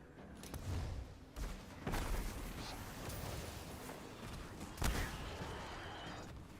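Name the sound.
grenade explosion in the video game Destiny 2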